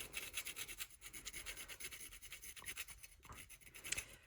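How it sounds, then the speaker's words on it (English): Hand files smooth the edges of a replacement inlay piece for a Hardanger fiddle held in vise grips, giving soft, quick rasping strokes in an irregular rhythm, faint and close. "Just grab those, and then just some files. Smooth these edges."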